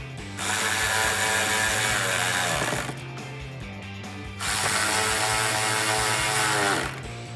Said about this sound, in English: then I'll tighten them down with my 8mm socket